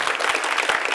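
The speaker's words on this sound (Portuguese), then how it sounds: "Palmas para ela." A TV studio audience applauds a storyteller on a Brazilian children's show, with dense, bright clapping that stays even and continuous throughout this short moment.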